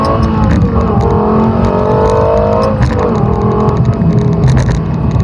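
A Lexus LFA engine revs loud and close under steady acceleration, its pitch climbing and then dropping sharply around a paddle-shifted gear change before rising again.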